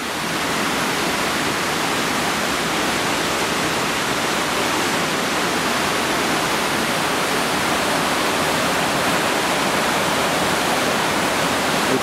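The River Ogmore runs high and fast after February rain, its floodwater giving a loud, steady broadband rush like a waterfall that continues unbroken throughout, with no voices.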